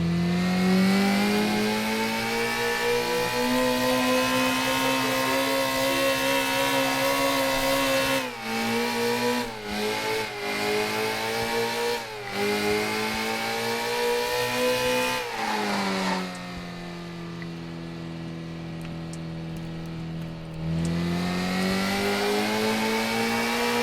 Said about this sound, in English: I personally think the engine noise is a bit too loud, but you could hear the tire screeching.